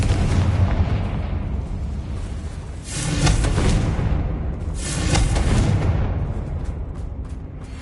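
A Confringo fire spell in the Hogwarts Legacy video game bursts in two loud booming explosions a couple of seconds apart over a continuous rumbling game soundscape.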